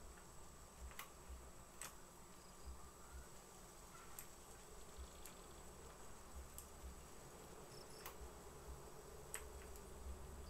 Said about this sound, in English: We actually got some bees.